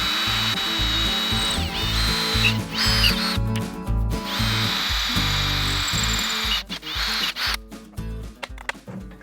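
A hand ratchet tightens bolts on the trunk of a rusty old HEMI hot rod, clicking in quick rhythmic bursts with short pauses. Metal clatter and handling noises are mixed in, close up, with no talking.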